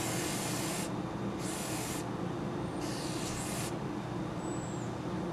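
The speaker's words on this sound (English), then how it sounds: "Just going to give the firing pin a few quick sprays" Degreaser is sprayed onto the firing pin of a military surplus rifle in three quick bursts of hissing aerosol, close and loud over a steady background noise, with short gaps between sprays and no talking.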